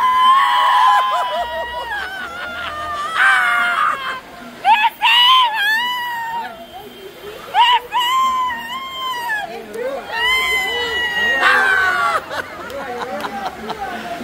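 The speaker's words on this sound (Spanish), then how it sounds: "Vamos a ver el mejor grito de las brujas." Children let out shrill, drawn-out screams in a witches' scream contest during a Day of the Dead gathering. The repeated shrieks rise and fall amid lively voices and shouting.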